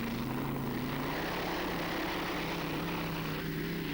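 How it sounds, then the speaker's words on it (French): A Danish pulling tractor, the Hunting Star 2, powered by a helicopter turbine at a 1996 tractor pulling final, giving a steady, continuous turbine whine and roar with no breaks, heard from a distance. "Il utilise lui aussi une turbine d'hélicoptère."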